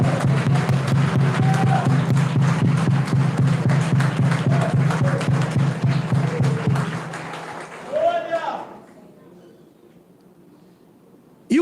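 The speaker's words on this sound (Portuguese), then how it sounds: "Por favor, a ele uma salva de palmas" A church congregation claps loudly and in a dense rhythm at a Portuguese-language sermon. The clapping fades out after about seven seconds, a brief cry of voices rises, and then only quiet room sound is left.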